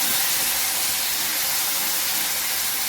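Cluster beans (gavar) go into a hot oil tempering and give a loud, steady, close hiss of sizzling that lasts the whole time, with no voices.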